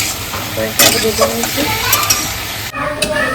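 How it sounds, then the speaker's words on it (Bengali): Vegetables being stir-fried with spices in a pan, a loud close sizzle with scraping stirs, briefly louder bursts as food is turned, and a voice speaking over the cooking. "এই যে মশলা দিয়ে একদম সবজিটা কষিয়ে নিচ্ছি"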